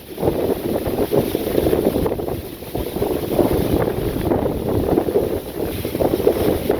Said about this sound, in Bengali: আর এই যে বাতাসের বেগে সব গাছপালা একবারে বেঁকা হয়ে গেছে, এত বাতাস ছাড়ছে।